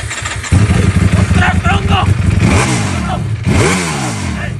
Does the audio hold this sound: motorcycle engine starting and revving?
yes